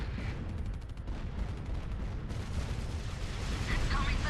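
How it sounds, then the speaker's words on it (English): An incoming missile in a strategy video game battle, heard as dense rumbling gunfire and explosions that fill the whole stretch at a loud, steady level, with a voice talking over it. "Incoming missile."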